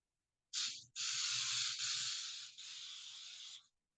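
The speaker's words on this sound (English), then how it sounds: "This is a spray olive oil." Olive oil cooking spray hisses into a baking dish in two bursts, a short one and then a long steady one of about three seconds, close and clear with no talking.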